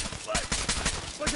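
Rapid gunfire in Fallout 4, a quick run of sharp close shots in an uneven burst, loud and dense over about a second.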